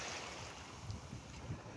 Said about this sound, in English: enjoying the beautiful waves that Hashem gave us